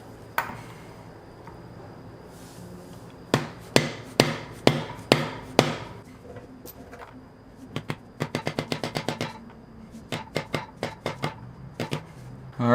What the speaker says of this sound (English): So I got this 14mm impact socket that is pretty much a perfect size of this pilot bearing. So I'm pretty much just gonna line it up and try to hammer it in there.